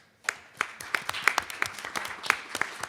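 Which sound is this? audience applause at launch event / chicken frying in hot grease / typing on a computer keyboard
audience applause at launch event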